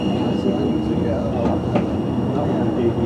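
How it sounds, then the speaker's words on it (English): A Sheffield Supertram rumbles along the track with a steady low roar and faint metallic squeals, a voice speaking over the noise. "Onto Sheffield Super Tram line."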